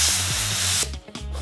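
A cheap dust removal spray can blasts air with a loud, close hiss that lasts most of a second, then gives two short, sharp bursts.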